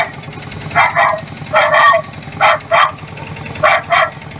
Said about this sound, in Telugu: కుక్కలు వర్రినట్టు సప్పుడు మైకుల రికార్డింగ్ చేసి ఆ మైకును ఆటోకు కట్టుకొని తిరుగుతున్నాడు